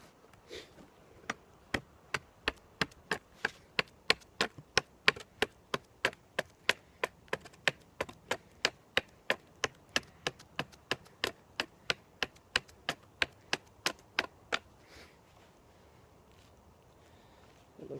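Wood is cut for a survival bow with a long run of sharp, evenly spaced strokes, close and crisp, slowing and stopping toward the end, over faint outdoor wind and no talking.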